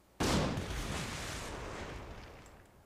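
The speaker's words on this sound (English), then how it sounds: "I like to stand in front of the cannon and fire it and hit 3 at the same time" A cannon fires once in Guild Wars 2: a single loud, sharp blast kicks in abruptly, then a long booming roll that fades slowly over a couple of seconds, with no other sound around it.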